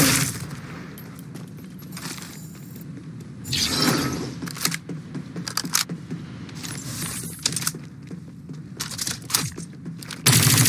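Gunfire in the battle royale game Farlight 84, bursts of rapid automatic shots and single cracks close up, irregular volleys separated by brief lulls and mechanical clatter.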